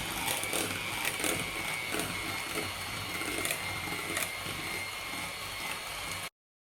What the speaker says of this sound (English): I'm just going to use my hand mixer and I'm going to mix it up until it's nice and pale looking